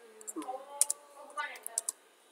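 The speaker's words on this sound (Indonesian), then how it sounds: "aku langsung tekan tab di keyboard" A few sharp key clicks from a computer keyboard, including the Tab key, while working in Excel VBA. The clicks are close, light and scattered, and a soft voice talks underneath them.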